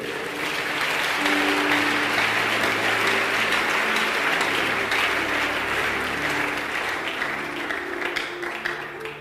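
A church congregation applauds continuously and loudly for several seconds, a dense even wash of many hands clapping that tapers slightly at the end.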